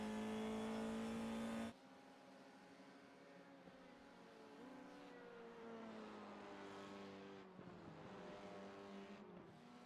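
A GT-F race car engine in a sim racing game howls at full throttle, then drops to a lower, quieter drone with rising and falling pitch through the gears, steady and continuous with no talk.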